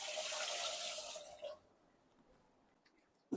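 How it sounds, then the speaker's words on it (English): Water pours into the hopper of a honey and paste packing machine, a steady broad rush lasting about a second and a half before it cuts off, leaving faint drips and a quiet room. "Put some water into the hopper"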